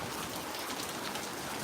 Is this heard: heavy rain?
yes